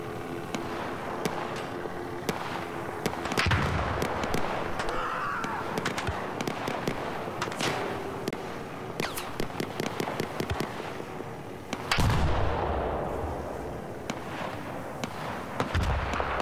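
Video game battle gunfire crackles in sharp, scattered bursts, some close and loud, others distant pops, over a continuous background rumble, with a heavy burst near the end.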